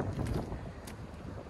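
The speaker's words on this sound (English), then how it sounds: "Sorry about the wind." Outdoor wind buffeting a microphone in a small town along Route 66, a low rumbling roar with gusty swells, fairly quiet overall and with no speech.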